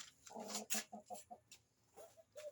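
A chicken clucks close by, a run of short throaty clucks followed by a few more after a brief pause.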